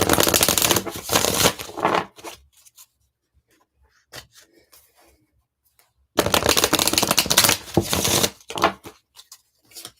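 A Divine Feather Messenger oracle card deck being shuffled, with two bursts of crisp riffling, one at the start and one later, separated by quiet handling with small taps and rustles.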